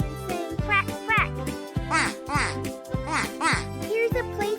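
A child-like voice imitates ducks quacking, with a rhythmic series of nasal quacks repeated over a steady musical backing, close and loud.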